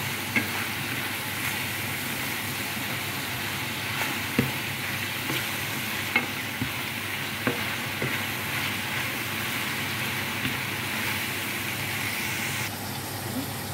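Bihon noodles with carrots and soy sauce fry and get tossed in a pan, giving a steady, dense sizzle with occasional soft knocks of the stirring utensil, close and continuous.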